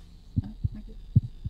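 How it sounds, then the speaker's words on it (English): An irregular heartbeat pulses in the horror video game The Cat Lady, with low thumping beats at uneven intervals over a faint electronic hum. "Can we hear a heartbeat? Yeah, there's definitely something pulsating."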